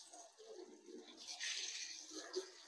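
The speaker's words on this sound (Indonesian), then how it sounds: "Kita siram aja dulu." Water splashes and hisses as a Suzuki Jimny engine bay is rinsed down, a fairly close, uneven gushing spray that surges and fades in bursts.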